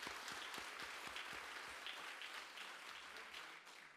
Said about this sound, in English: Can we give Emmy another round of applause?